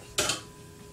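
A spoon stirring muffin batter with baking powder and salt in a bowl makes a single short, close clink against the bowl, followed by near silence.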